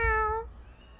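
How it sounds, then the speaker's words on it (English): A street cat in the video game Boyfriend Dungeon gives one clear, close meow that slides downward and fades within about half a second, leaving quiet room tone. "The street cat wanders away after her pronouncement."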